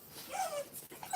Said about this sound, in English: Let me get these dogs in order.